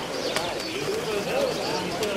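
Diving pigeons from a flying display at Petrousa, Drama, coo in soft, rolling calls that repeat over a steady outdoor hum, with a voice talking nearby.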